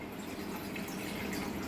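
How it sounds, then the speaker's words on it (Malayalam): Water poured into a cooker pot on a stove while preparing jackfruit puttu, a soft, steady trickle of liquid running continuously and faintly up close, with no talking. "ആവശ്യത്തിന് വെള്ളം ഒഴിക്കുക."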